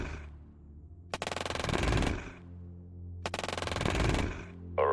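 Two long bursts of rapid automatic gunfire from combat units in the strategy game Shadow Empire, each rattling for about a second with a heavy low rumble between volleys.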